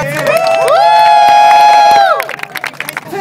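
A loud crowd cheers and whoops close by, with a sustained rising shout that fades into scattered cheering and claps.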